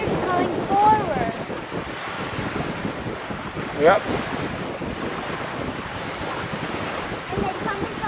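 Ocean surf washes onto a beach in a continuous broad rush mixed with wind buffeting the microphone, with a couple of short voices briefly heard over the water.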